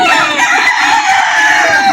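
A rooster crows loud and close at a chicken market in Lipa, Batangas, its strained call drawn out across the whole moment with other fowl clucking underneath.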